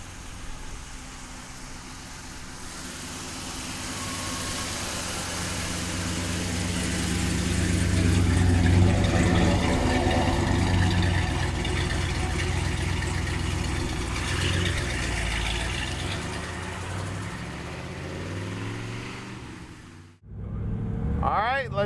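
A 1970 Chevrolet Chevelle LS6 recreation with a 454 V8 and Hurst four-speed runs steadily outdoors, its low rumble swelling midway and then cutting briefly near the end before resuming.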